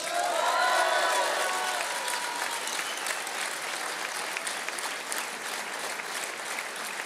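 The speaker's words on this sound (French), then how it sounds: "je veux saluer ici nos paysans et vous pouvez les applaudir." A large crowd at an Emmanuel Macron rally in Figeac applauds the farmers, dense clapping with scattered cheers that peaks early and then holds steady, slightly fading.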